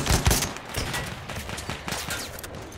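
Rapid gunfire from a shooter video game, several sharp bursts and shots in quick succession at moderate loudness, with the heaviest burst near the start and steady crackling shots continuing throughout.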